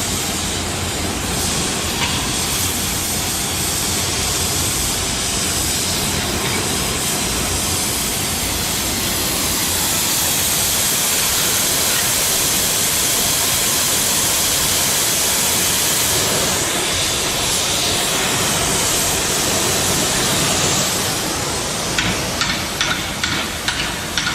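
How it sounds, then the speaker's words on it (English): Two sections of custom straight-pipe exhaust for a Subaru STI are welded together. A loud, continuous crackling hiss runs steadily for over twenty seconds, then breaks into a few rapid ticking bursts at the end. "So I'll weld the two together."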